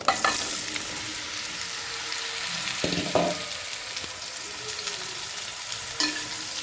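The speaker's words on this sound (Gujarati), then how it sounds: "હવે આ કેરી છે તે નાખી દઈશું અંદર" Raw mango pieces fry in a pan with cinnamon, cloves and asafoetida, a moderate steady sizzle broken by a few scraping stirs and light knocks.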